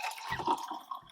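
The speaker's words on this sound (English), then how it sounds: "now let's pour it in a glass and see how it compares." Sparkling Brut rosé wine poured from a can into a glass, a short, close trickle of liquid with faint fizzing and splashing throughout, no talking.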